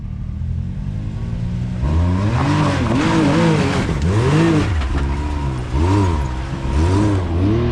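An off-road vehicle on the Pritchett Canyon trail in Moab revs its engine hard in several rising and falling bursts over a steady idle, loud and close, with no one speaking.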